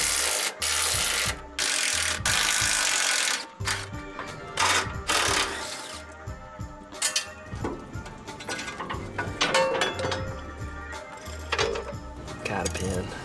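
A wrench ratchets on the 15 mm sway bar nuts under the front end of a Ford Econoline van: loud bursts of clicking pawl strokes separated by short pauses, with metallic knocks in between.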